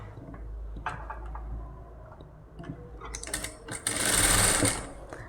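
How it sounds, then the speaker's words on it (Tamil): A sewing machine stitching rolled fabric piping, with a close mechanical whirr that starts in short bursts and builds into a louder, continuous run, a low motor drone underneath. "கரெக்டாக இதை க்ளோஸ் பண்ணிகிட்டே ஒரு தையல் போட்டுட்டு வாங்க."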